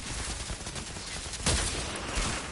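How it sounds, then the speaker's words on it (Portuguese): Gunfire in the video game Outriders, dense rapid bursts of shots in quick succession, with a sharper, louder crack about midway through and continuous loud firing around it. "que tiro foi esse?"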